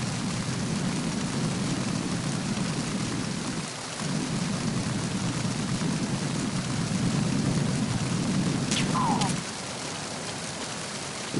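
Heavy windy rain with thunder in the video game Metal Gear Solid 2, a loud continuous downpour with deep rumbling that briefly drops out and returns, ending in a sharp crack.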